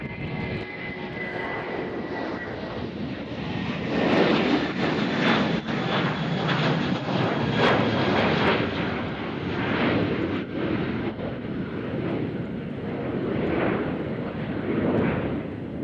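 A jet airliner departs Nashville International Airport and climbs out, its engines a sustained, powerful roar that swells in the middle and holds strong throughout.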